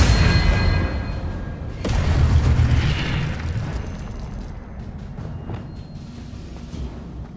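A spell blast from the disarming charm Expelliarmus in the video game Hogwarts Legacy: a heavy, booming burst with a second impact swell, then a rumbling decay that fades under a low ambient wash.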